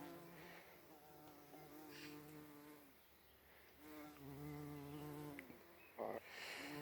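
Several bees buzz around flowers nearby, their drones rising and falling in pitch as they move around, with no talking.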